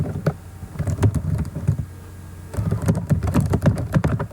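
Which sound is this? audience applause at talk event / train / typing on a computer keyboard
typing on a computer keyboard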